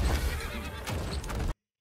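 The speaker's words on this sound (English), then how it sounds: "He's riding his horse, dude." A horse whinnies in a Street Fighter video game trailer, a loud, close neigh with hoof clatter and impact noise, lasting about a second and a half before cutting to silence.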